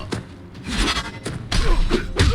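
Heavy punch impacts in the mobile fighting game Mortal Kombat Mobile, a series of dull thuds and smacks with crunchy hit effects, loud and close, spaced irregularly across the moment.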